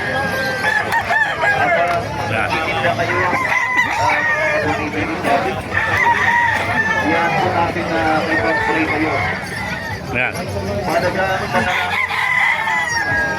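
Several roosters crow repeatedly amid clucking hens at a chicken market in Bocaue, Bulacan, with people chatting in the background.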